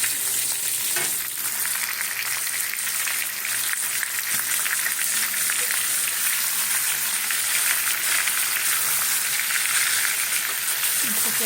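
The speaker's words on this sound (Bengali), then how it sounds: "এবারে আমটাকে ভাজবো এই যে হলুদ নুন মাখিয়ে রেখেছি এবার ভাজবো" Mango pieces coated with turmeric and salt fry in a pan with a steady, close, dense sizzle that runs unbroken throughout, with a few soft stirring sounds.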